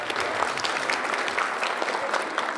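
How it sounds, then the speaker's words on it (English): An audience at a public safety town hall claps, a dense, steady round of applause from a roomful of people, moderately close and continuing for a few seconds with no talking. "And we go ahead and clap for that."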